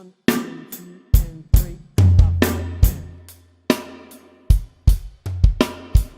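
A drum kit plays the fourth bar of a song, with sharp snare and cymbal hits, booming tom strikes and a syncopated punchy rhythm, close and loud.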